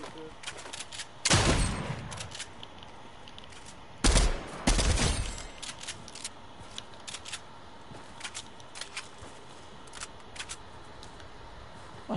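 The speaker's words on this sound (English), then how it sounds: "Okay, shots fired" Gunfire in the Fortnite video game: two loud bursts of shots, one near the start and another around the middle, with scattered fainter pops in between over a low background hum.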